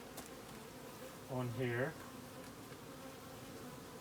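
Honey bees buzzing around an open beehive, with a brief louder droning burst from a close bee passing by over a quiet steady hum, and a voice speaking briefly.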